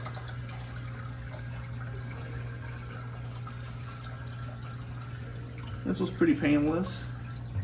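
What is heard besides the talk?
pouring a gallon of water into aquarium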